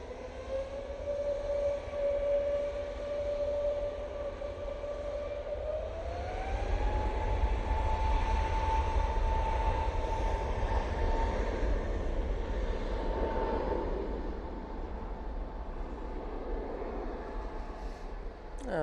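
An Air Baltic airliner takes off at Manchester Airport, its jet engine a loud rising whine with a deep rumbling roar that swells midway and then slowly fades as it climbs away.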